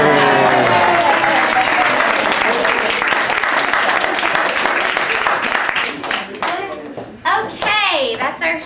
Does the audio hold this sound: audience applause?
yes